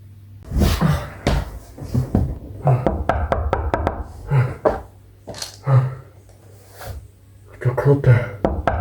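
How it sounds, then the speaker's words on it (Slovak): Knocking on a door, several sharp raps in separated bursts, heard among people talking. "To klope."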